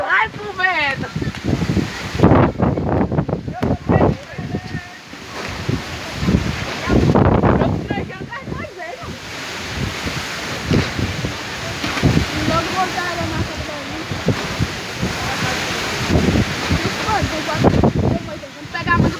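Strong wind roaring continuously through a village in Pernambuco, Brazil, with gusts swelling and buffeting the microphone, rushing like surf, while several people talk and call out over it throughout.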